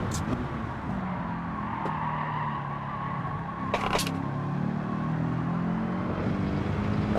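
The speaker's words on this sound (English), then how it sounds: "The RPM just sounded very low there." A race car engine hums at low RPM in second gear during an online practice session for the Nürburgring 24 Hours, a steady continuous drone with a brief tire squeal near the middle.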